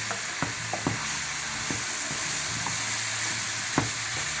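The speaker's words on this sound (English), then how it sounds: "What we're going to add next is 1 cup of beef broth." Beef broth going into a hot stroganoff pan, a loud continuous hissing sizzle with scattered stirring knocks and scrapes, close up, no talking.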